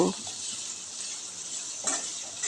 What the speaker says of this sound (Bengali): পেঁয়াজটাকে এবার তেলের সাথে একটু ভেজে নেব